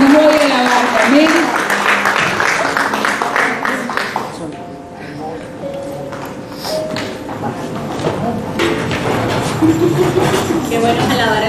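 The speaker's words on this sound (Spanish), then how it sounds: "Un aplauso para el Señor, a ese Dios todopoderoso" A church congregation at a Sunday service applauds, with the clapping rising and falling and mixed with voices and some tonal sound, moderately loud in a reverberant hall.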